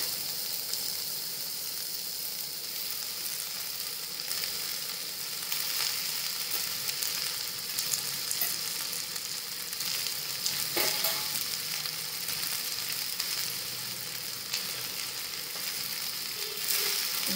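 Drumstick leaves sizzle in a pan with well-browned onion, a continuous bright frying hiss with occasional soft stirring scrapes, steady and close, with no talking.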